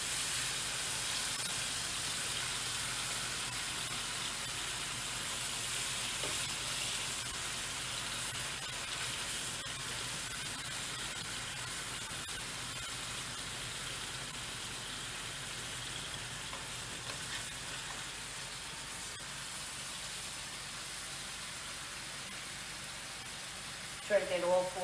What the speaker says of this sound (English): Searing the meat always gives it a little extra flavor.